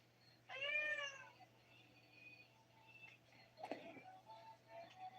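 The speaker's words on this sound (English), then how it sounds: "Yes, he does have the cutest meow" A small male cat lets out one clear, close meow that rises and then falls, followed by faint rustling and a low, steady hum in a quiet room.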